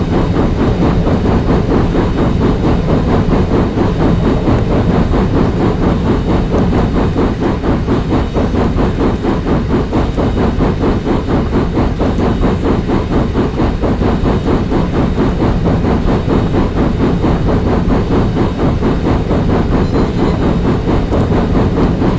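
Canadian Pacific Royal Hudson 2860 steam locomotive in the Open Rails train simulator rolls over Kicking Horse Pass, a steady, continuous rumble with rhythmic wheel clatter throughout, loud and unbroken.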